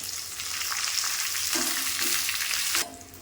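Shallots, dried red chillies and curry leaves frying in hot oil for a kumbalanga (ash gourd) curry, a steady close sizzle and crackle that swells slightly as ingredients stir, then drops abruptly near the end.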